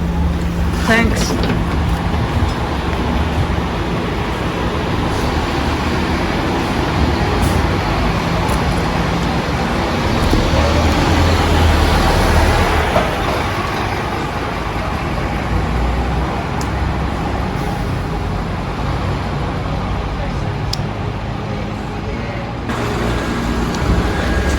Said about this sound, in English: now enjoy the shots of the bus as we arrive and it departs